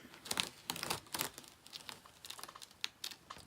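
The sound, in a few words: peeling something up, crinkling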